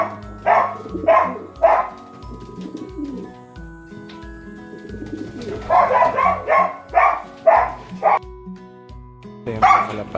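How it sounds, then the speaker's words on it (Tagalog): Racing pigeons coo in repeated throaty bursts close by, arriving in clusters with short pauses between, while a dog barks intermittently in the background. "Ito yung mga kalapati natin dito."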